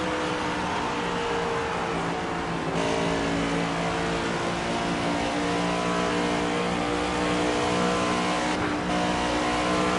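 Stock car engines roaring around Darlington Raceway in the NASCAR 25 video game, a loud, steady, close multi-car drone with sustained high revving throughout, no pauses.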